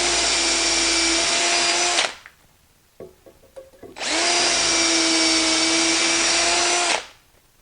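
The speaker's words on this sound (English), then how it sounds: "I'm just going to start drilling these out." A power drill bores hinge pin holes in wood clamped in an INCRA IBox and HingeCrafter jig: two loud, sustained whining runs, separated by a short pause with light clicks and knocks.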